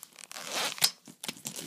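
A short zipper on a tablet case being pulled in quick, raspy strokes, close up, with a brief pause between pulls.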